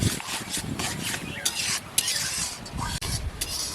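Ripe mango pulp mixed with powdered batasha sugar is stirred and scraped steadily in a pan, a close, continuous wet rubbing with small clicks and no talk.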